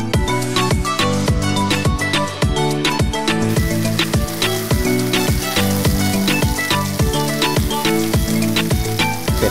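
Noodles for an auspicious Thai-Chinese mee stir-fry sizzle loudly in a hot pan, with steady rhythmic scraping and tossing strokes throughout and no talking.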